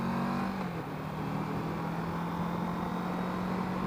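A car drives down a hometown road, its engine a steady low hum with a faint tonal whine beneath continuous road and wind noise, no voices present.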